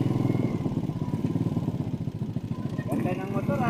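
A Supra motorcycle's engine runs close by with a steady, chugging low rumble and a brief rev near the end, while people talk over it throughout.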